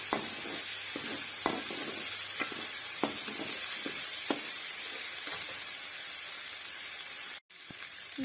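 Garlic ginger paste browning in hot oil in a pan for a desi-style chicken spaghetti, giving a continuous close sizzle and hiss with occasional stirring scrapes and small pops, steady and moderately quiet, with no speech.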